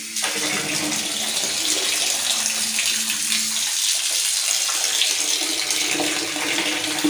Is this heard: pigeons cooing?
no